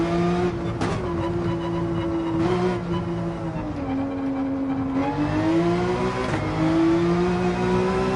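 A Porsche 911 race car in Gran Turismo 7 drones steadily at high revs, its engine pitch dipping and rising through several shifts and braking points, loud and close with no voices.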